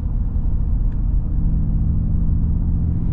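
A 2024 Mercedes G550 Final Edition's V8 engine gives off a deep, steady low rumble at an even, loud level throughout, with no talking over it.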